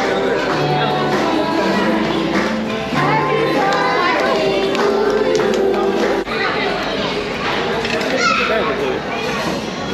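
A crowded unlimited-meal restaurant in Pune fills with a dense, constant babble of many voices, including children's chatter, loud and close throughout.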